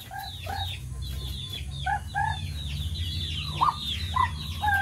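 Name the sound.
chickens clucking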